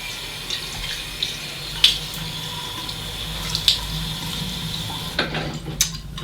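Tap water runs steadily into a sink for wetting a face before a shave, with a few sharper splashes and clicks over the continuous stream, close and moderately quiet, no talking.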